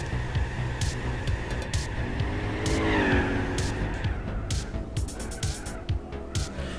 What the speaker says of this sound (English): Let's just roast the back tires all the way up the hill.